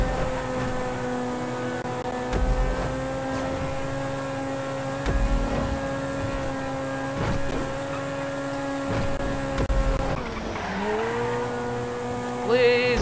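Supercar in Grand Theft Auto V driving hard, a steady loud engine drone with shifting harmonic whine, brief gear-change bumps and a tire screech near the end, no talking.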